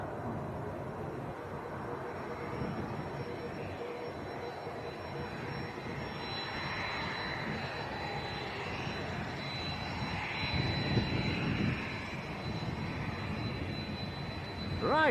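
An airliner departing Leeds Bradford Airport for Liverpool gives a steady, distant engine roar that swells slightly toward the end, with no other sound standing out.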